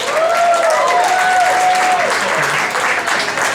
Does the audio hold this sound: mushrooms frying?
no